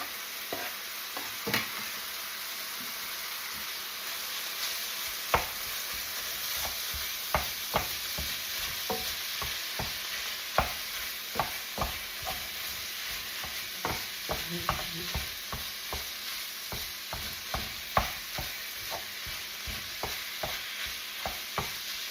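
Steady sizzling of shallot and garlic frying in a pan, broken by repeated scraping clicks of a spoon stirring, close and fairly quiet with no voices.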